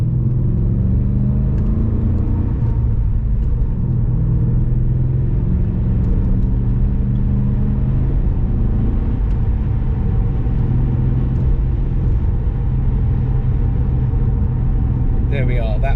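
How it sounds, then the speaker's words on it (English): An MG ZT 260 pulling away on a road, its engine giving a deep, continuous burbling rumble that stays loud and close as the car accelerates briefly. "that wonderful 20 seconds of me accelerating but having to stop again because I'm behind a Dacia Duster"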